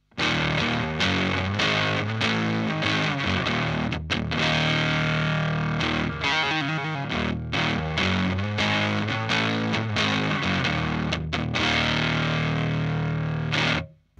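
An electric guitar through a single-knob fuzz pedal gives a thick, buzzing distorted tone as chords and riffs play in a steady rhythm, loud and close, with no voices.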